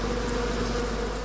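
A dense, steady buzzing of many honeybees swarms close by inside a hive, massing to sting an intruding death's head moth.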